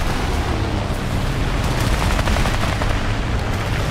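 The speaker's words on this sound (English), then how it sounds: "That P36 was shooting me up a little bit." Rapid machine-gun fire from a P-36 fighter in a War Thunder air battle, a dense continuous rattle of bursts that runs loud and unbroken throughout.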